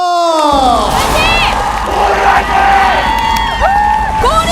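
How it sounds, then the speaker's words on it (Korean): A KBS variety game-show studio audience cheers and whoops loudly on cue, with crowd shouting and music-like tones over continuous dense noise, while a host's voice carries over the noise. "박수와 함성!"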